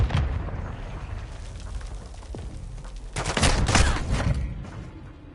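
Semtex grenade blasts and gunfire in Call of Duty: a burst of rapid shots, a sharp boom around the middle, then a louder cluster of explosions and fire toward the end, dense and close.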